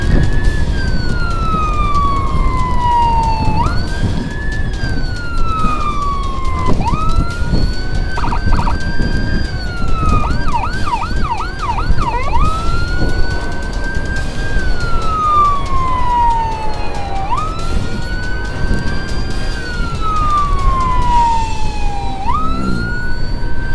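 Ambulance siren sounding loud and near throughout while escorting a hospital ambulance in traffic, with long rising and falling wails broken by short rapid yelp bursts, over steady engine and road rumble.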